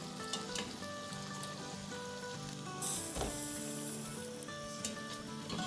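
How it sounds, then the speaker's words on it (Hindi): Mutton pieces added to a pot of onion and tomato for channa mutton pulao, producing a steady, fairly quiet sizzle and bubbling with occasional sharper crackles and a soft clatter. "अब गोश्त डाल देंगे इसमें से।"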